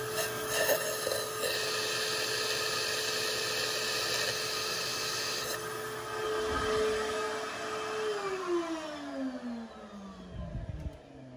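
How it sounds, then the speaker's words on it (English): A shop vac with a straw on its nozzle sucks oil out of a head stud hole, a steady close whine with slurping variations that winds down in pitch near the end. "He's gonna take a shop vac, kick the shop vac on."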